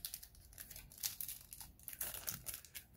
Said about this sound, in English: I like to open my packs kind of neat, just in case I want to put the cards back in